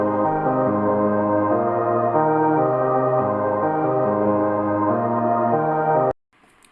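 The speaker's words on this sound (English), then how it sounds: "is the I Know pad, I believe, from the Electra X presets." A sustained synth pad, the I Know preset from Electra X, moves smoothly through a chord progression, warm and steady with no other sounds before stopping suddenly.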